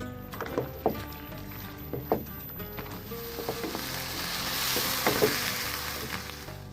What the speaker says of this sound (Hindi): चिकन को फ्राई करने के बाद हमने पीनट का पेस्ट डाल देना है